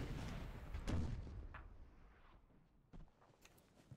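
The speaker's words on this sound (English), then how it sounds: "Our artillery's opened up." Artillery cannons firing in the Napoleon Total War battle game: a few dull, distant booms and thuds, the strongest about a second in, with a softer report near the end, over low battlefield rumble.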